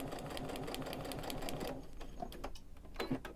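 A sewing machine runs a long basting stitch through quilt fabric, a fast steady rhythmic chatter for most of the stretch before stopping, followed by a few faint clicks and handling sounds.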